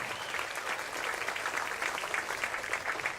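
Audience applause at an outdoor summer concert on a green, a dense steady patter of many hands clapping, fairly distant and even throughout with no voices over it.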